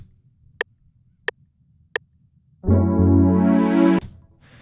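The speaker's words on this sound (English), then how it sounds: "it's going to sound really good when they're layered together" A few quiet ticking clicks, then a deep, buzzy plucked bass note layered with sub bass, a heavy low rumble underneath, swells in and holds about a second before cutting off.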